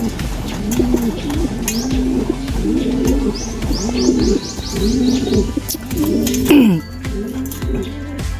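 Racing pigeons cooing steadily and close by, repeated rolling coos in a regular rhythm with light chirps overhead and a brief rustle near the end.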